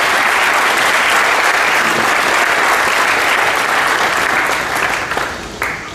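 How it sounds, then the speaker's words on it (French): Strong, dense applause from a large audience at an inauguration ceremony, steady clapping that holds loud for several seconds before thinning out near the end. "Georges Elassidi, que je vous demande d'applaudir à nouveau pour son soutien"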